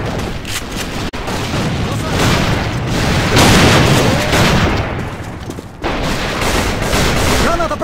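Grenade blasts and rifle fire pound a Castle Rock map battle in A.V.A, loud continuous shooting layered with deep booms, a sharp break near the one-second mark, with shouted in-game voice callouts underneath.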